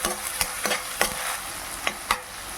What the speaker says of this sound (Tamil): 2 பச்சை மிளகாய், பொடியை கட் பண்ணின ஒரு வெங்காயம் சேர்த்துக்கோங்க. நல்லா வதக்கி கொடுங்க.